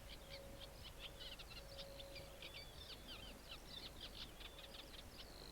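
A reed warbler sings from an Essex lake and grassland habitat, giving a continuous chattering stream of rapid, scratchy chirps and trills, faint and a bit distant over a low background rumble.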